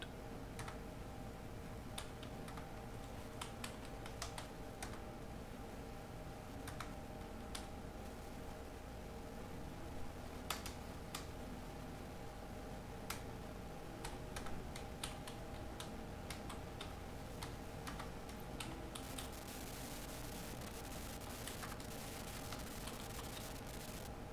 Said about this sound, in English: I will type here some text